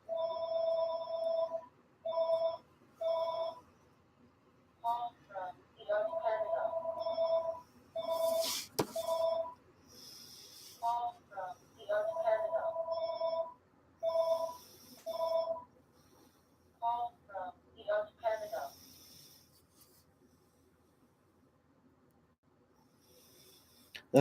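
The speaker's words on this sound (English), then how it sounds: "Don't worry, I'm sorry about the phone." A telephone rings indoors in a room where marker coloring is going on, with repeated bursts of ringing in a steady pattern separated by short pauses, fairly close and clear, with no talking over it.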